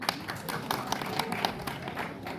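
A comedy show audience applauding to cast a vote, dense, steady clapping from a crowd in a room, moderately loud and continuous.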